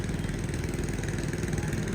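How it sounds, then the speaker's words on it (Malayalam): A motorized fishing boat's engine drones steadily and fairly loudly, with an even idling rumble throughout and nobody speaking. "മോട്ടറൈസ്ഡ് വള്ളം."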